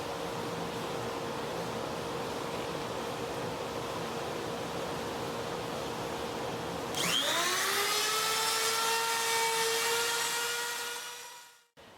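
A drill bit deepens holes for bow tie inlays in wood: a steady high-pitched whine and hiss that rises in pitch partway through as the bit spins up, then winds down and stops.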